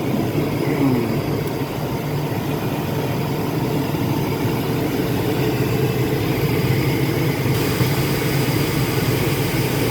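An old free truck's engine idling, a steady low rumble with a constant mechanical drone that holds evenly throughout, close and fairly loud, with no voices.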